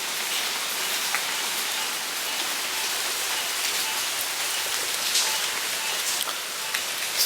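Heavy rain pours steadily during Hurricane Harvey flooding in Houston, a dense, even hiss of drops drumming on surfaces close by, constant throughout with no talk.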